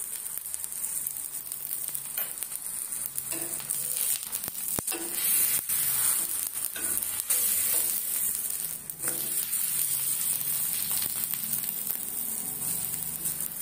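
Jowar thalipeeth roasts crisp on a pan with a continuous soft sizzle and hiss, close and steady, with occasional faint scrapes and ticks throughout and no voices.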